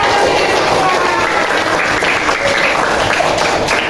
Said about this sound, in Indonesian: Wih, benar, tepuk tangan.